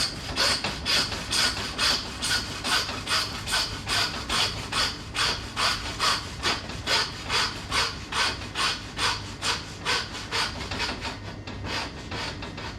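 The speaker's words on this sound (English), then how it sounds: "You want to saw just till you go through the bone." A hand saw rasps back and forth through bone in steady, rapid strokes while preparing tomahawk steaks, each pass a gritty scraping cut, close and continuous with no talking.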